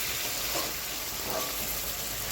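Potatoes being stirred in a pan of jhinge posto (ridge gourd with poppy seed paste) with a little water, giving a steady sizzle and a couple of soft scraping stirs.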